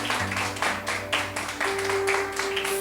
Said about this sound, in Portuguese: E quem crê, aplauda ao Senhor nessa noite.